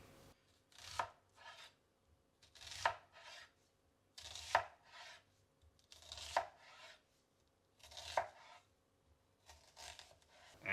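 A kitchen knife chops through food on a cutting board in a home kitchen, giving five or six clear, evenly spaced bursts of slicing and thudding strokes about two seconds apart, close and crisp with quiet pauses between.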